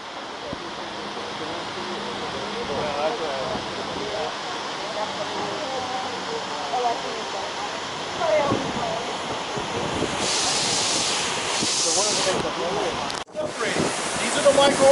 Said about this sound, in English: So we have these little sprayers spraying in there.